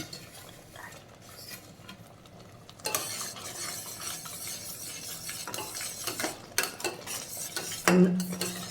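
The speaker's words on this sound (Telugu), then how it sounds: "ఇప్పుడు మనం వేపి ఉంచుకున్న గోధుమ నూకని వేసుకొని ఉడికించుకోవాలి" A spoon scrapes and stirs roasted wheat semolina through melted sugar and jaggery with pineapple in a pan, giving repeated close scraping strokes over a soft sizzle that grow louder partway through, with no talk.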